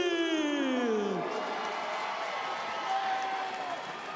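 Arena crowd at the Pensacola Bay Center cheers and applauds as a young fighter is introduced for his debut, a steady roar of cheering under an announcer's drawn-out voice.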